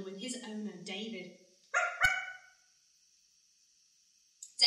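A friendly dog gives a few short, bright barks and yips, with quiet pauses between them.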